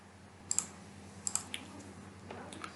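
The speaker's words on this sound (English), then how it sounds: "I am just doing one thing, just typing the value here" Typing on a computer keyboard: a few sparse, light key clicks in small clusters over a quiet background hiss, close by and with no speech.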